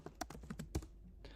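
Quick keystrokes on a computer keyboard, a short close burst of about a dozen clicks in an uneven typing rhythm, with no voices.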